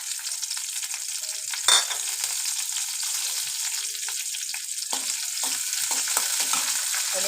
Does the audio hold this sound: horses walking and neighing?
no